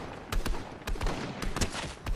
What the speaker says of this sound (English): Keep firing rockets, Connor.